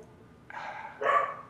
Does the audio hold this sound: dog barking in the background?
yes